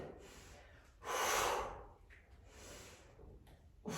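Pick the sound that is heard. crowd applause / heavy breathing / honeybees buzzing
heavy breathing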